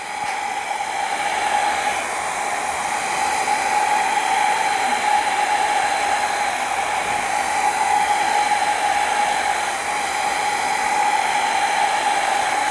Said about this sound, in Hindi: अब धीरे धीरे ड्रायर चलाओगे तो लाइंस आएंगे दूर दूर